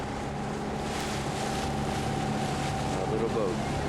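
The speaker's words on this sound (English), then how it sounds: "A little boat." A small boat hums along a river in China with a steady engine drone, water and wind noise blending into a constant close rumble.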